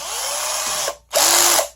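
Chuck of a Mimajor 21V cordless drill being tightened on a bit: two short loud ratcheting whirs, the second after a brief pause, close up with no talk.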